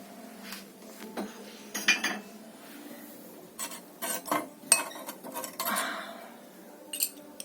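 Glazed ceramic plates, some with dark green glaze, clink and knock together repeatedly in irregular bursts as they are lifted out of a pottery kiln after a glaze firing, close and fairly crisp with brief pauses between handling.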